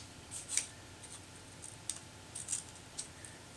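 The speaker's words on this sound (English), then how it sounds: "I'm gonna cut these out," Scissors cut printer paper pieces, producing a series of light, crisp snips spaced irregularly, faint and close, with no voices.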